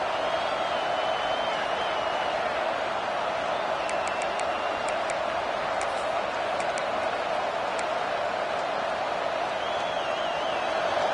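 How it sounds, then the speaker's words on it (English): A stadium crowd at an Oregon vs Notre Dame college football game roars steadily behind the defense on third down, a dense, sustained wall of noise with no break. "Decibels rising as the crowd gets behind this defense on third down"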